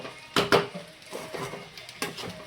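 Sabudana khichdi stirred in a pan at home, a spoon scraping and knocking against the metal in a few soft strokes with two louder clinks, close and quiet.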